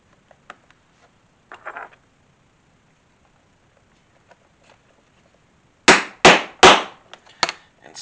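Hammer blows setting a metal rivet and cap on a sewn utility bag: a few faint taps early on, then a cluster of four or five sharp, loud strikes near the end, with no talking.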